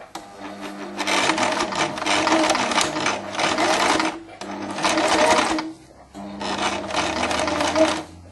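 A sewing machine stitching silk satin and tulle runs in three loud, steady bursts of rapid mechanical whirring and needle chatter, separated by short pauses, close up with no talking.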